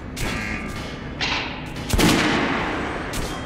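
Gunfire at a shooting range in Metro Last Light Redux, with a few sharp shots and a heavier booming report near the middle over a steady background din.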